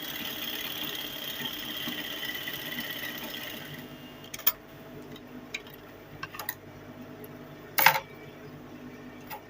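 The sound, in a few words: sewing machine stitching fabric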